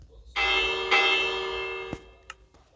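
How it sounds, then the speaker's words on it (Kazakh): A bell in the Minecraft video game is rung twice. The first strike starts loud and rings out bright with a long decaying tone, a second strike lands partway through, and a few faint clicks follow. "Мына қоңырау."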